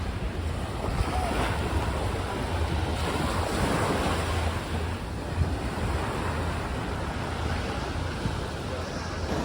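Ocean surf rolling in at Waikiki beach, Hawaii, a steady broad wash of breaking waves with wind buffeting the microphone throughout, no voices.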